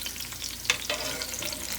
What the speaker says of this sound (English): getting that sizzle, getting them all turned over, getting them nice and crispy on all sides